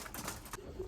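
Racing pigeons in a loft give soft, low cooing, faint and muffled against a quiet background with no voices.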